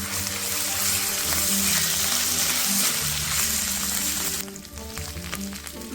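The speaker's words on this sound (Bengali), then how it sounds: "এখন আমি আদা বাটা ও লঙ্কা বাটাটা দিয়ে দেব।" Ginger paste and chili paste hit hot oil with asafoetida in a pan, a loud close sizzle that holds steady and then drops in level toward the end.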